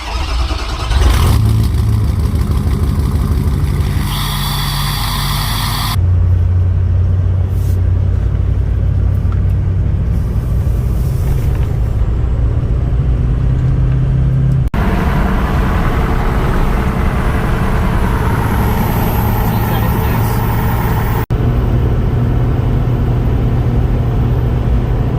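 A project truck with a 6-litre engine cruising down the road, a steady deep engine drone and road rumble heard from inside the cab, loud and continuous with a couple of abrupt shifts in tone.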